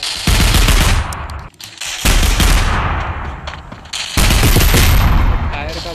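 Automatic gunfire in the mobile game FAUG blasts in three long, loud sustained bursts separated by brief gaps, close and dominant.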